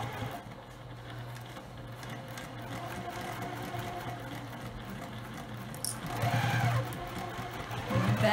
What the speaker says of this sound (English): Let's start stitching to close this opening.